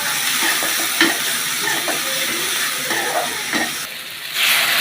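Chopped onion, garlic and tomato sizzle and fry in a pan, a steady bright hiss with occasional stirring scrapes, close and continuous, with a brief burst of stronger sizzling near the end.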